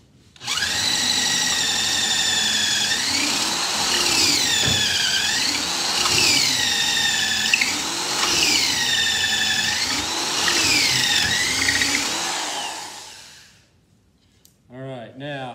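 A power drill bores a 5/8-inch hole into lead ballast, grinding steadily for about twelve seconds, its pitch rising and dipping in repeated waves, then winds down and stops.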